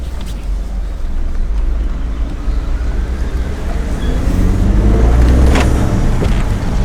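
The engine of a Ford F-150 pickup rumbles low and steady, then swells a little louder as the gas is opened, heard from inside amid road and cabin noise.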